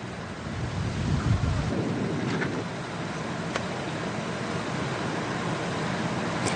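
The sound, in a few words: torrential rain and strong winds of Typhoon Koinu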